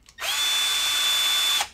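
A power drill spins a bit extension at high speed, a single steady whine that starts abruptly, holds for over a second and cuts off.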